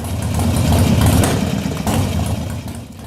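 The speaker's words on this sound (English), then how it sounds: "At this point, the engine does not throttle well." A motorcycle engine fitted with an S&S Super E or G carburetor runs with the throttle cracked just off idle, a close, steady low rumble that swells slightly then settles, heard alone.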